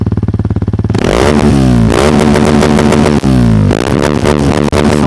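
A Kawasaki KLX230 with a new Nori Fumi exhaust idles with a rapid putter, then revs hard and loudly in repeated bursts up close, holding a raspy, buzzing roar.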